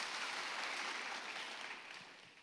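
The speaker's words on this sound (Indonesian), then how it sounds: "Boleh kasih tepuk tangan nih buat Tuhan yang luar biasa itu saudara." A church congregation claps together in a sustained, fairly faint burst of applause, dense and even before tapering off slightly toward the end.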